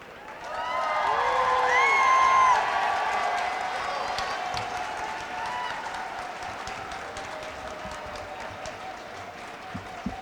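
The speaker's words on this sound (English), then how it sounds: "how about one more round of applause for Lydia?" An audience at a disability services day event in a state capitol bursts into applause, swelling early then settling into steady sustained clapping, with tonal feedback or whistle-like tones and a voice briefly above it.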